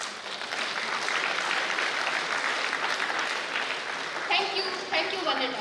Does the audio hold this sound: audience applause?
yes